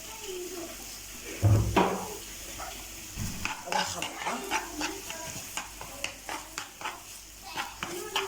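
Eggs go into a pan of fried kofta seasoned with peppers, parsley and cumin, a heavy splash and sizzle followed by a run of rhythmic spoon or spatula scrapes and taps against the pan.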